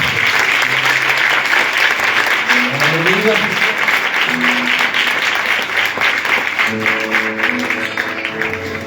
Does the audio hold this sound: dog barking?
no